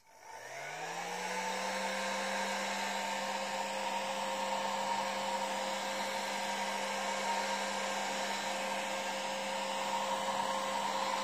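A hair-dryer-style heating tool blows steadily on a mold for casting a skull onto a Halloween candlestick, a loud continuous whir that spins up in the first second and then holds an even tone throughout, with no talking.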